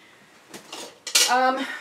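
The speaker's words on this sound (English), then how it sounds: "So you need your little measuring spoons, okay?" Small metal measuring spoons clink lightly as they are handled in a kitchen while gathering canning equipment, giving a few brief close clinks before a person begins talking.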